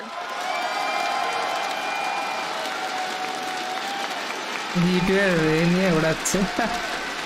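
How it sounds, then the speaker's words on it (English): Live crowd at a Rainbow Six Siege season reveal event, a steady roar of applause and cheering filling the venue, with a voice starting to talk over it near the end. "you're hearing the crowd, you're hearing the excitement"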